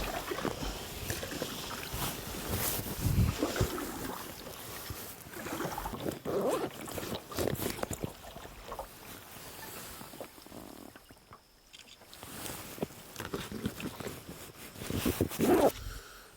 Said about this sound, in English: I'm out and I can paddle this out.